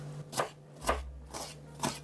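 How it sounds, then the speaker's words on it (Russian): Four crisp knife strokes through bell pepper, dicing it into medium cubes on a board, spaced about half a second apart, close and fairly quiet with a low steady hum underneath. "Средними кубиками порежу болгарский перец"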